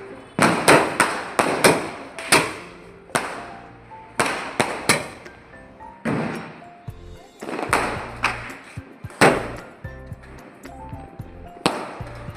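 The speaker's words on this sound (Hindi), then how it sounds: "फिर हम यहाँ पे कुछ स्काई शॉट्स छोड़े थे।" Diwali sky shot fireworks going off outdoors, a rapid irregular series of sharp cracks and bangs, some overlapping, repeating through the whole stretch with no talking.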